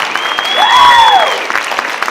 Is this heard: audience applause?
yes